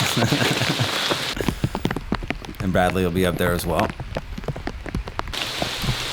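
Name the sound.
rain falling on golf course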